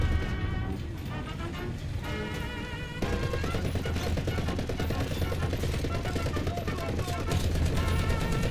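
A .50 caliber machine gun on an M41 Walker Bulldog tank in a video game fires in long sustained bursts, dense and loud, over a low engine rumble and game effects.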